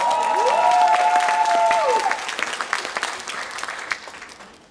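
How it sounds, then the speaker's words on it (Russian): Loud applause from the audience at a KVN comedy show, with a sustained burst of clapping over music and whistles that gradually thins and fades. "Аплодисменты!"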